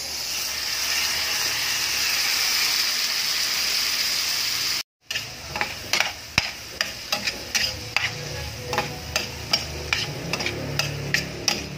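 A loud frying sizzle of onion and garlic in a pan, then a brief drop-out before corn goes in, followed by rhythmic scraping and stirring taps over a softer hiss.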